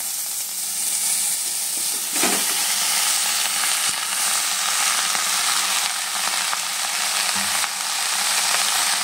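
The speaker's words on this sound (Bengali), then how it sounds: "আমি শাকটাকে দিয়ে দেব।" Leafy greens dropped into hot tempering oil in a Bengali kitchen, giving a loud continuous sizzle and hiss with occasional soft clatters of stirring, close and alone without talk.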